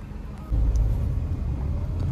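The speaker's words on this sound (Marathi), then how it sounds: "नगरपालिकेची गाडी आली मोठी." Large municipal garbage truck passing on a road, a low rumbling engine that swells suddenly and holds at a close, steady level.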